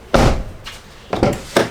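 Several heavy thuds of a truck door being shut and latched, close and loud, spaced unevenly across a couple of seconds.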